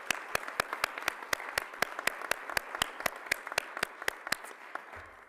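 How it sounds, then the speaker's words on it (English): Sharp, evenly spaced claps ring out one after another over a soft crowd murmur at an awards ceremony, steady throughout before tapering off at the end. "if we can all give them a round of applause,"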